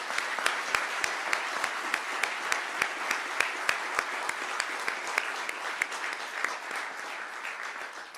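Sustained round of applause from an audience at a defense leaders' research center announcement, dense even clapping with a few sharper individual claps standing out, fairly distant and steady throughout.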